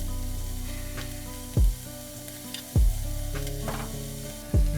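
Onion, carrot and hedgehog mushroom sizzle steadily in butter in a pan, a constant fry broken three times by brief low thumps, with no voices.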